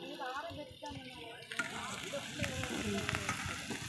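Ginger garlic masala paste frying in a pan outdoors, a steady sizzle with stirring scrapes, while a voice talks over it.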